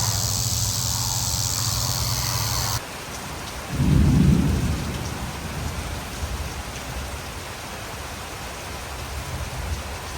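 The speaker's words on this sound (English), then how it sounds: "It is a rainy August day" Rainstorm with a heavy downpour and a close rumble of thunder partway through, steady rain hiss continuing throughout on a rainy August day in north Georgia.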